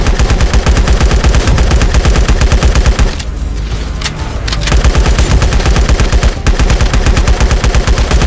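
Sustained rapid gunfire from a boss fight in the mobile shooter LifeAfter, loud and dense bursts rattling almost continuously, with one brief lull partway through.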